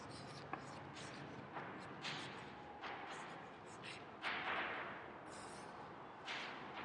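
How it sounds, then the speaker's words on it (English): Chalk or marker scratching on a classroom board in steady strokes and taps, close and continuous over a faint room hum. "I will write this activity here."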